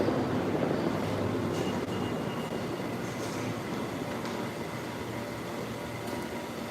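Steady low rumble of a train in Chambers Street station on the New York City subway, J and Z lines, a constant roar of wheels and machinery with faint squeaks, no talking.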